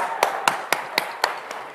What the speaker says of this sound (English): let's give Bart a big hand of applause